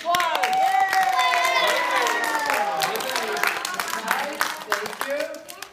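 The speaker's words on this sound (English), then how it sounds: "let's have a round of applause" Audience clapping and cheering after a Passover puppet show, a dense burst of applause that gradually thins out, with voices calling over it.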